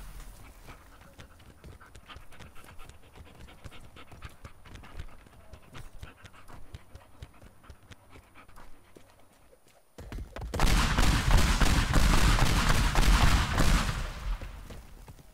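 A dog pants in the video game Teardown, a ragged breathy rhythm over quieter game ambience for about ten seconds before a loud, dense burst of crashing noise takes over.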